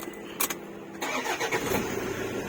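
Toyota Fortuner engine started with a newly programmed immobilizer remote key: a short cranking burst, then the engine catching and settling into a steady idle, close and clear.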